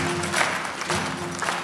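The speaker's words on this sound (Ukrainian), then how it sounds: "Пожалуйста, встретим аплодисментами нашего финального гостя." Studio audience at a live improv comedy show applauds the arrival of a final guest, with steady, dense clapping sustained throughout at moderate loudness and no voices over it.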